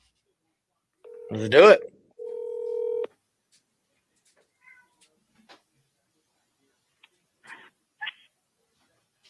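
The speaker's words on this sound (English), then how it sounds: "let's give the seller a call here" Phone keypad dialing tones while calling a seller about a real estate deal, with a short burst of touch-tone beeps and a steady tone, close and clear, then near silence with faint clicks and brief speech.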